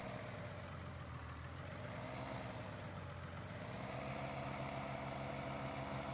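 A truck's engine idles steadily in Farming Simulator, a low continuous rumble that holds even and alone with no talk over it.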